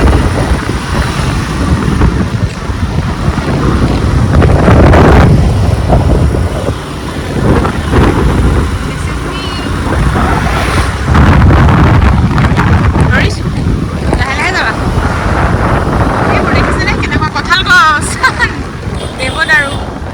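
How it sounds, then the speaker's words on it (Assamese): Strong wind buffeting the microphone while riding a scooter, giving a loud, constant blustery roar with gusts rising and falling and a voice faintly heard now and then. "বতাহ বহুত বহুত বহুত বেছি বতাহ।"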